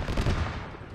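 A brief burst of rapid Arma 3 gunfire cracks out close and loud, a quick rattle of overlapping shots that fades within a second.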